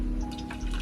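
Juice poured from a Kuvings REVO 830 juicer batch into a container, a steady close liquid trickle and splash running alone throughout.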